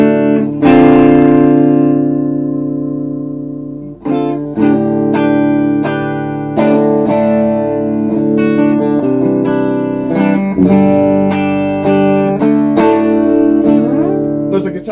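A 1980 Aria Pro II PE600 electric guitar through distortion rings out a sustained chord, then plays loud, dense riffs and chords for the rest of the passage.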